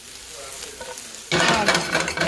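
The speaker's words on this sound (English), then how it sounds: "I've turned my heat down to medium-low because they're already starting to caramelize a little bit" Peppers frying and caramelizing in a pan over medium-low heat: after a quiet moment a close, loud crackling sizzle suddenly bursts in and continues steadily to the end.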